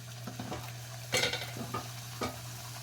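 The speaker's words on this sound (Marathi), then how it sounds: "पालकपुऱ्या तयार झाल्या अशा टम्म फुगून तर दुसरी घालते मी" Spinach puris fry in hot oil, a soft steady sizzle with a few scattered scrapes and bursts of louder bubbling as each one is turned and pressed, nobody speaking.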